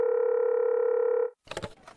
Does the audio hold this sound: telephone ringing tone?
yes